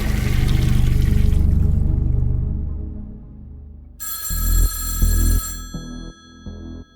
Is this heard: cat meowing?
no